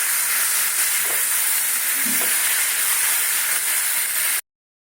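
Ash gourd and chickpeas sizzle in a hot pan, a steady, loud hiss of frying that holds evenly throughout with a couple of faint clinks, no voices.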